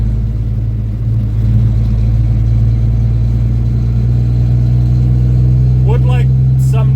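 An M11 Cummins dump truck engine drones steadily at about 1600 RPM while cruising on the highway, a loud, deep, even rumble throughout, with a voice briefly heard over it near the end.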